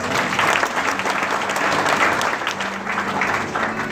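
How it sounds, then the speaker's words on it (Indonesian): Congregation applause at an evening church revival service rings out steadily and fairly loud for the whole stretch, a dense even patter of many hands, with a faint sustained low tone underneath. "Kasih tepuk tangan Tuhan."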